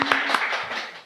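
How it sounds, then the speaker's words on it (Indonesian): Hosts in a podcast studio clap briefly after an on-air cue, a few quick close hand claps that fade within about a second, with no talk over them. "tepuk tangan dulu."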